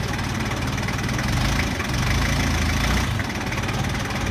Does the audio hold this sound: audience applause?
no